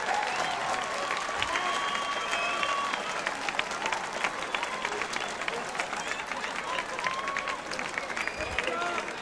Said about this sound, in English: we also need to give a big round of applause for Mr. Bob Handigan